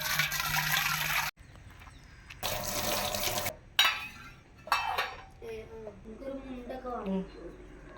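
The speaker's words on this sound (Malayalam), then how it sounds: "കുടത്തിലെ വെള്ളം ഒരു പാത്രത്തേക്ക് മാറ്റി വെക്കട്ടെ" Water pours in two splashing bursts as it fills a vessel, then a person speaks over faint dripping.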